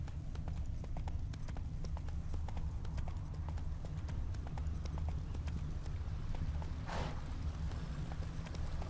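Hooves of a horse ridden in The Witcher 3 clop in a steady rapid rhythm throughout, close and constant under a low rumbling ambience, with a brief whoosh near the end.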